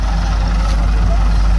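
A 2016 Massey Ferguson 385 tractor engine runs steadily nearby with a loud, continuous low rumble, no pauses or changes in pitch.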